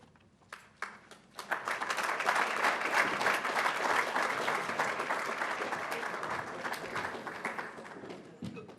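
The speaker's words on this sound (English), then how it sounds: "let's give him another round of applause" A seated audience breaks into sustained applause for retired football Hall of Famer Steve Largent, with a few scattered claps at first, then a dense, steady ovation that fills the room and slowly tapers near the end.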